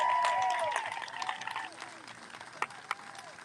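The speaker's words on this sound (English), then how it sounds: "We should all give our law enforcement officers a great round of applause." Crowd applause for law enforcement officers at an outdoor freedom rally, loud at first and then thinning into scattered claps and a couple of sharp single claps, with a voice and tonal sounds mixed in.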